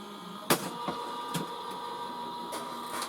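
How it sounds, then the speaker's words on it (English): A cutting machine feeds and cuts a single sheet of cardstock on a mat, giving a steady mechanical whir broken by several sharp clicks and knocks. "we're going to feed it through the machine"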